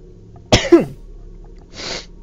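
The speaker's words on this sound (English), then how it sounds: "Oh, my sneeze is coming back." A single sharp sneeze bursts out close up, followed after a brief pause by a softer breathy sniff or exhale.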